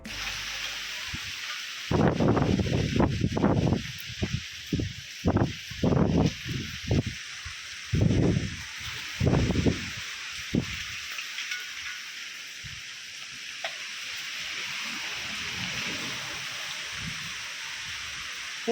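Strong wind gusting through a farm during a cyclone with rain: loud, rushing bursts come one after another through the first half, then ease into a steadier, softer roar.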